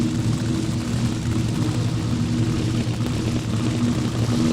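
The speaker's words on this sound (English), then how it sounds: "Making friends, making fans with that fuel injected supercharged small block Chevy powered machine" A fuel-injected, supercharged small block Chevy AA fuel altered drag racer running nitro during qualifying at Mo-Kan Dragway, giving a loud, steady, dense engine roar that holds without a break and with no talk over it.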